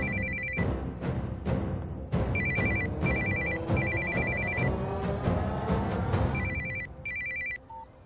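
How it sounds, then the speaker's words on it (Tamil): A telephone rings repeatedly in bursts, loud and close, with an electronic ringing pattern and no voices. "ஃபோன் சத்தம்."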